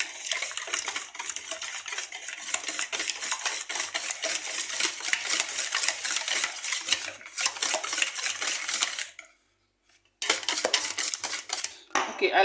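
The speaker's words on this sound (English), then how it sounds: "I'm going to gently mix while I'm still stirring" Carrot cake batter stirred by hand in a bowl, with steady scraping and clinking of utensil against the dish, fairly loud and close, briefly pausing near the end before resuming.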